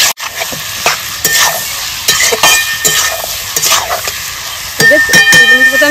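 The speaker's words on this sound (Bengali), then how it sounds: "হলুদ গুঁড়ো, লবণ দিয়ে সুন্দর করে আমি নেড়ে চেড়ে নেবো 2 মিনিট মতো" Mutton being stirred with turmeric powder and salt in a hot pan for a thin curry: a loud, steady sizzle broken by repeated scraping spatula strokes in an uneven rhythm, close up, with no talking.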